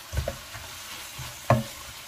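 Minced pork and beef sautéing with onion in a pan, a soft sizzle under a few scraping stir strokes, with one sharper clatter of the utensil near the end.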